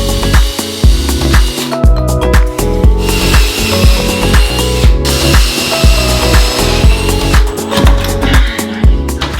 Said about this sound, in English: she's drilling in a screw